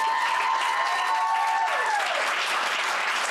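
An audience at a poetry recitation championship gives a round of applause, sustained and even clapping from a crowd filling the room, with a faint tonal hum running under the first part.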